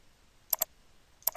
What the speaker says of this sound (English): click over Accept button